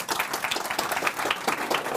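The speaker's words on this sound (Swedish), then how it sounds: "De kan också få en applåd." Audience applause at a morning equality seminar breakfast, welcoming the guests: steady, dense clapping from a seated crowd, moderately loud and continuous throughout.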